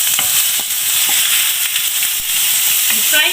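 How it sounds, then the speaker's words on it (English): Tomato and onion frying in hot oil with bay leaf and red chili, a steady close sizzle and hiss with light stirring clatter throughout. "Now we are going to put in the tomato as well as the onion. You fry it for some time"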